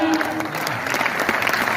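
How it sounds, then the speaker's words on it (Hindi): Audience applause at a Hindi humorous poetry recital (hasya kavi sammelan) in Hisar, a dense wash of clapping that fills the short moment steadily, with faint voices mixed in. "मैं जानती थी कि इस पंक्ति पर आपकी ताली आएगी"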